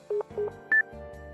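Telephone keypad dialing tones from a visual novel game: several short beeps in an uneven sequence, then a single higher tone and two lower rings, clean and alone with no talk.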